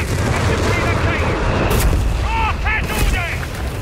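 Mortar fire and explosions in the video game Company of Heroes 3, with dense booming battlefield noise throughout and a voice speaking briefly over the din.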